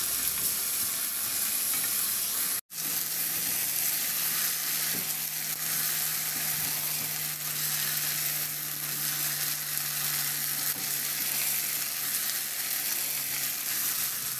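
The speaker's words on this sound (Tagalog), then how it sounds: "Ihalo lang hanggang sa mag-reduce lang din yung toyo at oyster sauce." Pork ribs sizzle steadily in a pan with soy sauce and oyster sauce while being stirred, giving a continuous close frying hiss with occasional scraping and one brief gap.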